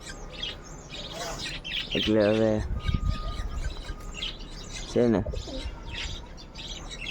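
Birds call and coo in short bursts around a pigeon family, with someone talking over them and a steady background hum.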